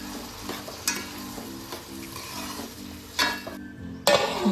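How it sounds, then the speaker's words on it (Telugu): Chopped tomato pieces frying in oil with curry leaves for a tomato pickle, a steady close sizzle with stirring scrapes and a few sharper clinks of a spoon against the pan near the end. "మనం ముందుగా కట్ చేసుకున్న టమాటో ముక్కల్ని కూడా ఆయిల్ యాడ్ చేసుకొని కలుపుకొని"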